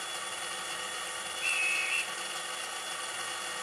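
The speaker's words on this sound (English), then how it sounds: "Got the guard with a whistle." A railway guard's whistle gives one short, clear shrill blast of about half a second, moderately loud over a steady background hiss, with no voices.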